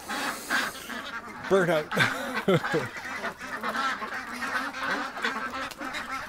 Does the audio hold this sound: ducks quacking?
yes